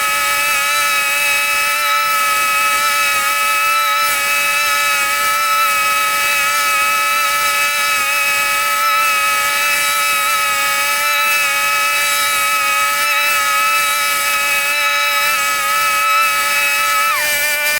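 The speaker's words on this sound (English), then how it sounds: "I'm going to take my mower, put it back on 4 1/4, and I'm going to go over the lawn in the same direction that we did the first pass." A lawn mower with its deck set at 4 1/4 runs over a lawn on a repeat pass, a loud, constant whining drone with steady tones that holds unchanged throughout, with no talking.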